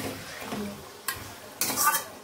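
Mutton is stirred into onions fried red in a pot, giving soft scraping and shuffling with two sharper scrapes near the end, close by with no talk.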